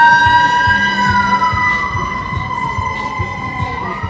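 An emergency vehicle siren wails steadily in a Las Vegas street, its sliding tones loud and continuous over a low rumble of traffic.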